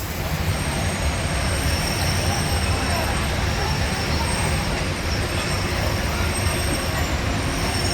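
Disneyland monorail train, wrapped for the 100th anniversary, rolls past with a loud, continuous rumble and a thin high wheel squeal throughout, heard close up.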